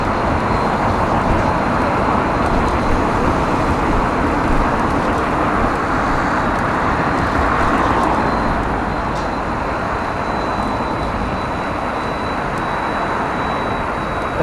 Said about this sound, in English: It's a 54 Lawrence bus straight ahead of me.